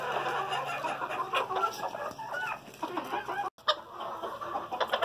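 Polish crested chickens clucking in a farmyard pen, a dense flock chorus of repeated clucks and murmurs, fairly loud and close, with a brief drop-out partway through and no talk.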